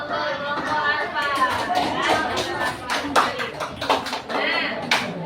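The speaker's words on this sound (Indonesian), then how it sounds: "tepuk tangan dulu untuk kelompok Alfa" Classroom applause for a student group after a science discussion on magnetic and non-magnetic objects, scattered hand claps mixing with children's chatter and voices throughout, moderately loud and close.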